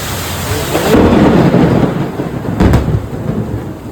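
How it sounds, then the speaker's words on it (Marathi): Thunder rumbles loudly through heavy night rain, a deep rolling crack over a steady, dense downpour that continues throughout. "वीज खूप कडकडत आहे"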